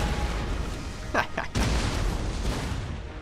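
Cannon fire in the game Napoleon Total War: a couple of quick booms in succession over continuous battle noise, with a voice speaking over them.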